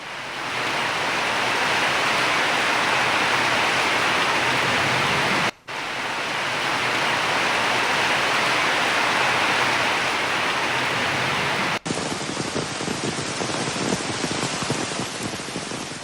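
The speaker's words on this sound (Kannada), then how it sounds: "ಭಾರೀ ಮಳೆಯ ಹಿನ್ನೆಲೆಯಲ್ಲಿ ನೇತ್ರಾವತಿ ನದಿಯಲ್ಲಿ ನೀರಿನ ಮಟ್ಟ ಏರಿಕೆಯಾಗಿದೆ." Rain-swollen Netravati river at the Dharmasthala bathing ghat, a loud, steady broadband roar of rushing water with heavy rain noise, continuous throughout with two brief cuts, no talk.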